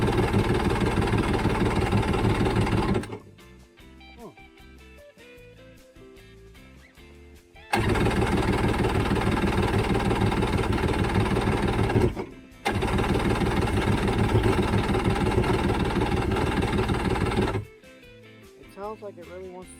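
A jet ski engine with freshly fuelled carburetors cranks in long, loud starter bursts of a few seconds each, separated by quieter pauses, turning over without catching.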